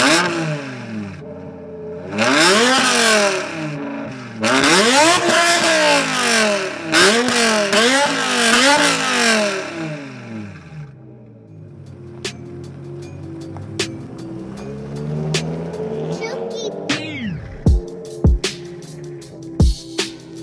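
A supercharged 5.2-litre BMW E60 M5 rising and falling through several loud revs while driving away, then a lower cruising drone with sharp clicks and clatter near the end.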